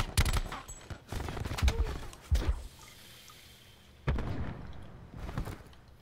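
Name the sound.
sniper rifle gunfire in Call of Duty Black Ops 4 video game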